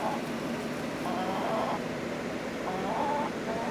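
Hens clucking inside a chicken house during summer heat, with electric fans running; soft, scattered clucks and low calls rise in short bursts over a steady fan-like hum.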